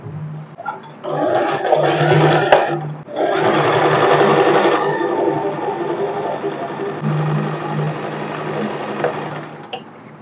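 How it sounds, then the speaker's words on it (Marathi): Sewing machine stitching the side seams of a nighty, running in loud steady whirring bursts with a short pause near the start and another break midway, then stopping near the end. "मी आता साइड स्टिच करून घेते"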